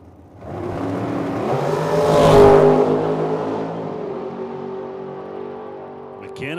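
A dragster launches at a drag strip in Medicine Hat, its engine swelling to a loud roar that peaks and then fades as the car pulls away, with commentary heard underneath.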